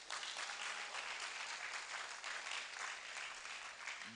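Steady, dense applause from an audience at a university delegate congress in Ghana, continuous and fairly even for several seconds with no pauses.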